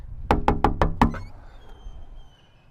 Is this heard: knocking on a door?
yes